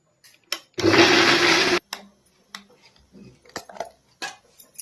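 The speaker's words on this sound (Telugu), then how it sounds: "టమాటాలు ఉడకని మిక్సీ పట్టుకొస్తున్నాం." A kitchen mixer grinder blending boiled tomato chutney runs in one loud burst of about a second, followed by scattered clicks and light knocks of the jar and lid, close with no talk.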